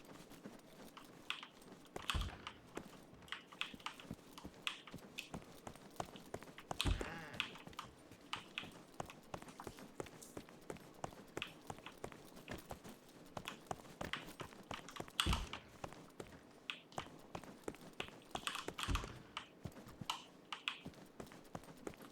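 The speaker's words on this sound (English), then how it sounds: "These classic typewriters, sweet." Rapid clacking of a classic typewriter inside a building in the video game Arma Reforger, a steady run of sharp mechanical key strikes and carriage clunks heard close and alone.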